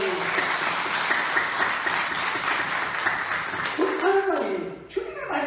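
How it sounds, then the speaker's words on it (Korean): A Korean church congregation applauds during Sunday morning worship, a dense, sustained clapping that holds for several seconds before thinning out as a voice cuts in near the end. "우리 하나님께 영광의 박수 올려드리겠습니다"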